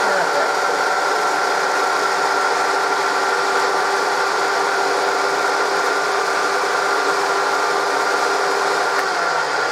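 Motor of a Hoover 119/1224 vacuum cleaner runs at full speed after switch-on, a loud, steady whine with a constant high tone and airy rush, winding down briefly near the end.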